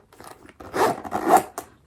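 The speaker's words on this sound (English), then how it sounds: "let's see if I can zip it up" A zipper is pulled closed on a tightly stuffed Louis Vuitton Alma BB handbag, giving two close, rasping zip strokes with a short scratchy tail, heard alone.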